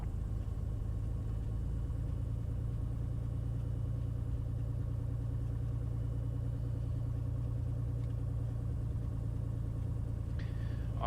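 A Bonanza light airplane taxiing after landing: a steady, droning piston engine at idle holds an even, continuous level throughout, heard from inside the cabin with no talking.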